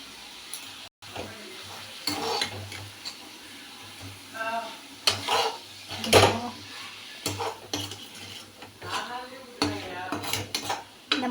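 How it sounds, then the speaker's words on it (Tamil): Onions sizzle and crackle in a frying pan, with a spoon scraping and stirring against the metal at close range. "நான் இந்த அளவுக்கு வதக்கியிருக்கேன், இன்னும் வதங்கணும்."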